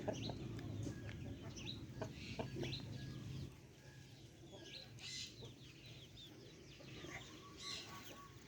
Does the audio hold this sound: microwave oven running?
no